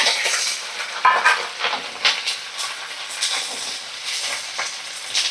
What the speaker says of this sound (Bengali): আর দেখো কিছু কুচানো নারকেল দিয়ে দিলাম